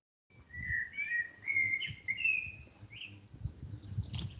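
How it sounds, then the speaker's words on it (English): Birds sing in a historic village, with bright overlapping chirps and trilling phrases carrying steadily across the scene over a soft low rumble of outdoor background noise. "I hope everyone can hear the birds singing because it really is nice."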